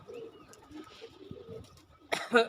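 Domestic pigeons kept in a home loft, with soft low cooing under light background activity, followed by a brief louder burst of calls near the end.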